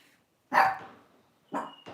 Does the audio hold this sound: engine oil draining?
no